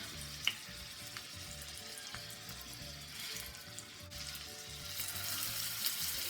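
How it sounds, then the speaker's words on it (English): Soft, steady sizzling of Swedish meatballs in a skillet with an occasional light clink or pop, fairly quiet and close, growing slightly louder toward the end. "Hear that sizzle?"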